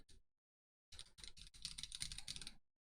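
Typing on a custom BYO keyboard: a quick click, a pause, then a dense run of rapid key presses clattering close and crisp for under two seconds before stopping, no voices.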